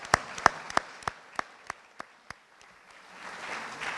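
An audience at a community awards show claps in a brief rhythmic burst of eight or so sharp, evenly spaced claps, then fades into looser, softer scattered applause.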